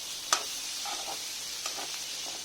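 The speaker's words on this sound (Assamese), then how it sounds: "মই পিঁয়াজ ভাজি আছোঁ।" A quiet, steady sizzle of onions frying in leftover chicken oil, with one sharp scrape and a couple of softer stirring sounds, and no speech.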